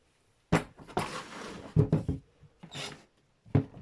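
Parkside 12V cordless drill-driver with rubberised grips and bumps being handled and set down, giving several soft thuds, rubs and scrapes in short irregular bursts, close and fairly quiet.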